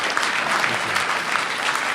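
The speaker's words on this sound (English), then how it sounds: "give Secretary Ramos a round of applause" A workshop audience claps steadily for a government secretary, a dense, even wash of applause that holds at the same loudness from start to finish.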